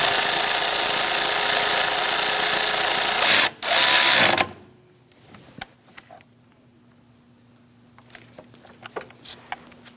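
Power drill run in two loud bursts of about three and a half and one second, driving a screw into the brake master cylinder of a 2000-2006 Mini Cooper, followed by faint clicks and handling noises in the quiet.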